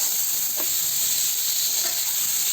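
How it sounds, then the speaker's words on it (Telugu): Chili powder and tomato frying in a pan for a fish curry give a steady, close sizzle and hiss throughout, with a couple of faint stirring scrapes and no talking. "బాగా సిమ్లోనే బాగా ఫ్రై చేయండి"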